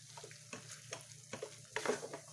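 A spoon stirs and mashes a paneer and beetroot fudge mixture in a pan, making soft repeated scraping and squishing strokes over a faint cooking hiss. The sound is quiet and close, with no talking.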